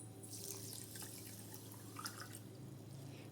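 Half a measure of water is poured into a pot of sugar to make a light syrup for grape juice, giving a soft, steady splashing trickle that is quiet and close, with no talk.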